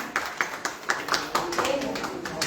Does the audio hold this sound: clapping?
yes